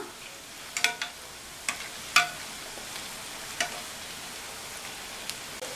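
Rava pakoda with mixed vegetables frying in hot oil over a medium flame and being turned over, giving a low steady sizzle broken by a handful of sharp clinks and scrapes as the pieces are flipped.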